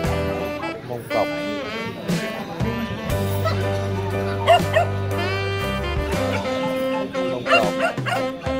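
Mông Cộc native Vietnamese dogs bark and yip in short repeated bursts at a native dog breed competition, heard over continuous background music and bustle.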